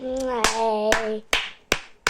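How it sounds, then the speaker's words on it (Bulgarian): A voice sings a short held tone, then a few people clap in sharp, separate bursts, about five distinct claps spaced unevenly and close by, each one ringing briefly in the room. "Аплодисменти."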